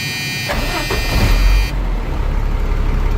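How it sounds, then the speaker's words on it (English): A truck starting up during a CDL cab and brake check, with a dashboard buzzer tone that cuts off as the engine catches and settles into a steady low rumble close by. "Start the truck."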